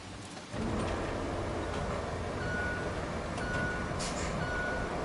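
Reversing truck in the RoadCraft video game, a steady engine rumble with a regularly repeating backup beep, alone and without talk.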